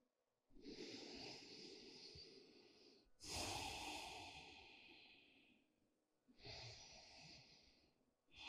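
Slow, deep breaths during a Hatha yoga practice: three long, airy, close-miked inhales and exhales, the middle one strongest, separated by brief pauses, with no other sound.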